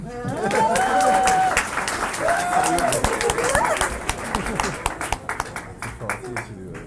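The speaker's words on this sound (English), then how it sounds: "a big, huge round of applause, please, for Jarna." Wedding guests applaud during the speeches at a couple's wedding, a dense burst of clapping that thins out after several seconds, with voices talking over it.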